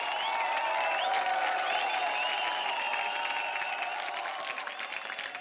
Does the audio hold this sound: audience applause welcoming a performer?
yes